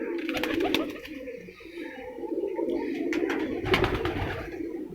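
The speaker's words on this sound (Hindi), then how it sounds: "ये जी अहमद ख़ान के पास दूसरा लोहा कबूतर" Loha breed pigeons coo repeatedly in soft, throaty bursts, close by, with a steady low murmur of several birds overlapping throughout.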